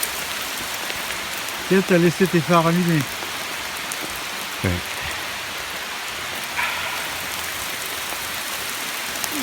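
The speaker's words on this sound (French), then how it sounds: "Ça n'est pas de la pluie, c'est de la grêle." Hail falls steadily and densely, hissing on surfaces throughout, while a person speaks briefly in French over it.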